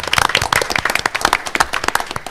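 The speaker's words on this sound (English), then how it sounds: "So let's give them another round of applause and wish them well tonight." Loud, close clapping at an emergency school board meeting, a short burst of irregular hand claps from a small group that fades out after a couple of seconds.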